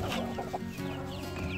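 Young chicks in their enclosure give soft, rapid clucking and peeping calls, close by and fairly quiet, in short irregular bursts.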